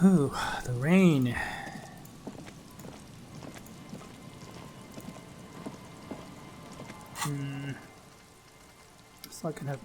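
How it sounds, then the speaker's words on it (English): Rain patters steadily in the video game Disco Elysium, a soft continuous hiss under game music tones and sound effects. "Ooh, the rain."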